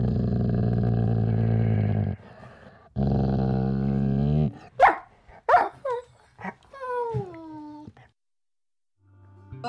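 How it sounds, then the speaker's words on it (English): Recorded sound effect of a dog growling in long low rumbles, then a series of sharp barks and a whine, loud and close with pauses between. "There is no dog, just the sound of it."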